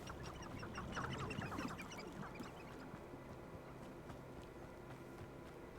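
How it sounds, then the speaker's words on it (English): Birds chirp and call in the Forbidden Forest of the video game Hogwarts Legacy, a cluster of bright twittering calls early on that thins out over a quiet ambient bed, faint overall. "Birds."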